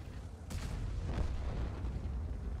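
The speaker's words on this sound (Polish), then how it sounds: "Tutaj mamy również wsparcie artylerii w trybie TD." Artillery support shells boom in a tank video game, with a sharp blast near the half-second mark followed by a second rumbling impact over a constant low battle drone, no voices.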